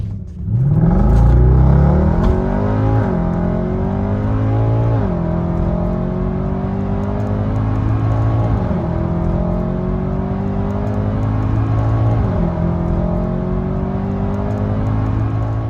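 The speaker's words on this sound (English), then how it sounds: "let's do a 0 to 60 and see what this car can really do" A Seat Ibiza FR engine revs hard from a standstill through a 0 to 60 run, loud and close, with the pitch climbing and dropping back at each of several quick gear shifts.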